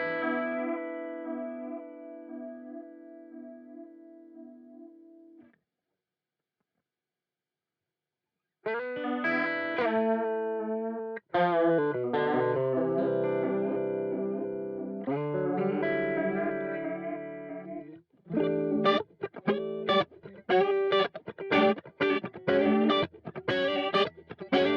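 Electric guitar chords and picked notes through a Boss MD-200 modulation pedal set to ramped, non-sine vibrato, a wobbling, pulsing effect, played alone with brief gaps between phrases.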